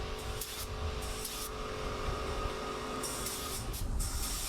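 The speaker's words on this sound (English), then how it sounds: "Okay, just spraying it up now." A spray gun hisses steadily, spraying finish on a wooden jewelry box, close and continuous, with brief bursts of brighter spray noise over a constant compressor-like rumble.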